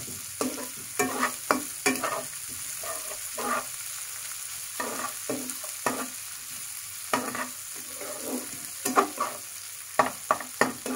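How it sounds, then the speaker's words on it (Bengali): Onions fry in a pan for a Bengali fish dish, with repeated irregular scraping clinks of a spoon stirring through them over a soft steady sizzle, close and alone with no talking. "ভালো করে পেঁয়াজটাকে ফ্রাই করে নিতে হবে"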